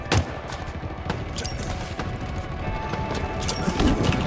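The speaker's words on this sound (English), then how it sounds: "how many shots does it take with the sniper rifle to fucking shoot the dude off?" Several sharp gunshots crack out in a Halo Infinite multiplayer match, scattered irregularly over a busy background of clattering gunfire and impacts, one especially loud shot near the start.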